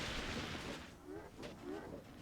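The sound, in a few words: explosions in video game Myth II Soulblighter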